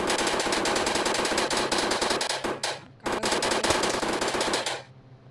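Rapid automatic gunfire from a video game, loud dense bursts of bullets rattling continuously for over two seconds, a brief lull, then another long sustained burst before trailing off.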